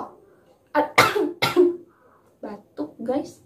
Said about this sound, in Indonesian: batuk guys, mohon maaf